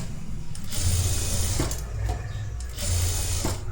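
A sewing machine stitches a netted blouse, a loud steady whirring hum that runs in stretches with two brief slowdowns between them.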